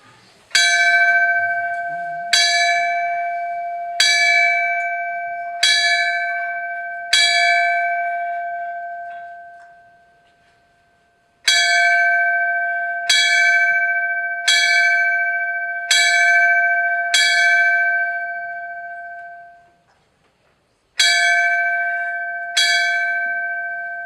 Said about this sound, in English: Please stand for the bell ceremony.